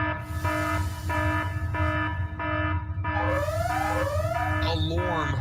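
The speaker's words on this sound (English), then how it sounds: "Alarm." Repeated electronic alarm beeps sound in steady pulsed bursts, followed by rising sweeping tones, moderately loud against a constant low background hum.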